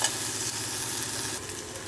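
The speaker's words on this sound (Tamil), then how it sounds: "இதில் எப்படி நல்லா ஃப்ரை ஆகுதுன்னு பாருங்க கொஞ்சம் வதங்கட்டும்" Okra fries in a little oil with a dusting of chilli powder, giving a constant close, bright sizzle with faint stirring underneath and no pauses.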